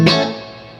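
A Dean Zelinsky Private Label Sidekick electric guitar plays an in-between pickup tone that blends humbucker and single coil: one bright strummed chord rings out loudly and decays over a second.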